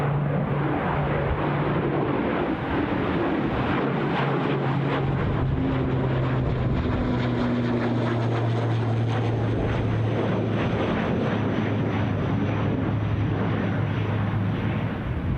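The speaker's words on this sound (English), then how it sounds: "the wind really just picked up quite suddenly." Strong gusty wind buffeting the microphone at Newcastle International Airport, a loud constant rumbling roar with a low droning aircraft engine tone sliding underneath, no voices.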